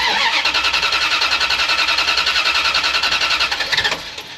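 A Dodge conversion van's engine cranks with a fast, even starter rhythm for about four seconds, then catches and fires, loud and close with no talking.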